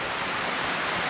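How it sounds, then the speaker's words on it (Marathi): Heavy rain beats down as a dense, steady hiss of broadband noise, loud and unbroken across a very short stretch. "जोरात आला पाऊस."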